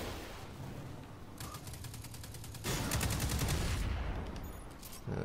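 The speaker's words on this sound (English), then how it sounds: "there's also snipers across the gorge" Gunfire in the Destiny 2 beta on the Inverted Spire map, with snipers positioned across a gorge: two rapid bursts of repeated shots, the second louder and longer, then a fainter shot at the end.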